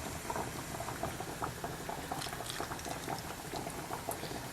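Pickling brine being ladled into a jar of cucumbers for homemade dill pickles, a steady bubbling, pouring liquid texture with light splashes throughout, close and moderately loud.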